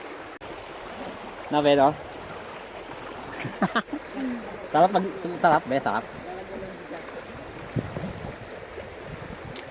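Strong river water rushes over rocks in a small stream, a steady broadband wash that runs throughout while people chat close by.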